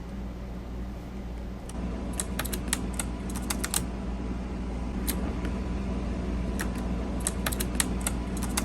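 Keys on a laptop keyboard being pressed by an animal, giving irregular bursts of sharp clicks, close and fairly loud, over a steady low rumble of background noise.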